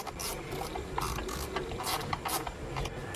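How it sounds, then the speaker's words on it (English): Ratchet wrench tightening an 8mm bolt holding a Ford camshaft position sensor, a steady run of rapid close clicks from the pawl over low background noise. "So now we tighten up our 8mm bolt."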